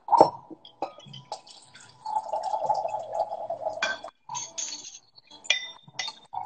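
Liquid is poured into a kitchen measuring jug toward a 15-centilitre mark, opening with a glassy clink and followed by a steady close trickle with a few light drips and knocks.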